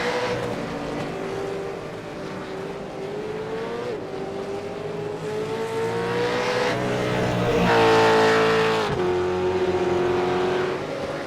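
V8 Supercars race cars roar down the front straight at Imola, a continuous loud engine note rising and falling in pitch as several cars pass in close succession, swelling to a peak near the end.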